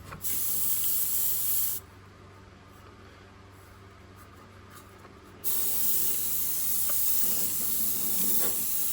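A spray gun hisses steadily, laying a coat of Createx paint on a Shelby Cobra 427 S/C body, loud and close, pausing for a few seconds mid-way before resuming.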